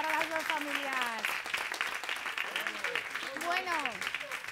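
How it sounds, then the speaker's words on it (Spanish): Audience applause for two families at a televised contest, a moderately faint patter of clapping mixed with voices and tonal sounds over it. "Un aplauso para las dos familias."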